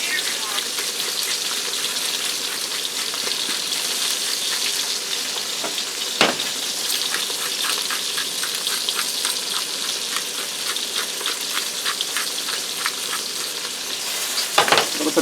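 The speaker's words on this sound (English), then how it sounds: "I'm going to season them now. I'm going to stir." Seasoned potatoes frying in an Instant Pot give a loud, steady sizzle close by, broken by the scrape and clatter of a utensil stirring them.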